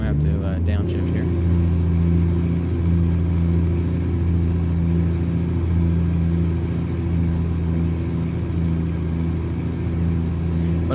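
Game simulation of a Peterbilt day cab truck with a lower-horsepower engine downshifting, a steady, loud, low diesel drone and rumble that runs throughout with slight shifts in pitch, while someone talks over it.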